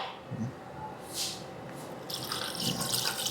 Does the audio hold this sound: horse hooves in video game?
no